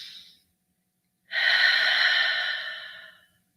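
A single deep breath, a short exhale first, then a long, full inhalation or exhalation of about two seconds, close and clear in a quiet room with no talk.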